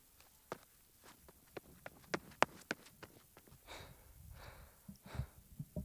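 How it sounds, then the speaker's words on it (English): Running footsteps on a hard stone floor, a quick series of sharp, close slaps that speed up then give way to scuffing steps and heavy breathing, performed as a recorded sound effect with no talk. "So I'll do running on hard stone floor."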